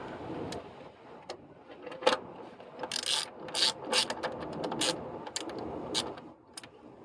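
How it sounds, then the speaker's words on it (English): Ratchet turning a 10mm socket on an extension while working on a 2007 Mitsubishi Eclipse Spyder GT, with bursts of rapid clicking that come and go up close, and no voices. "I'm using a long or medium extension because the socket and this ratchet don't want to turn without it"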